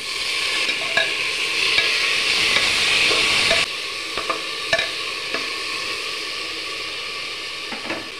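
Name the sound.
soaked lentils frying in oil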